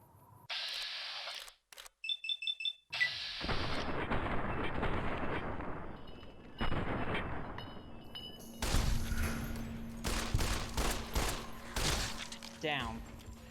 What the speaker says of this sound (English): Let's use my weathered pistol.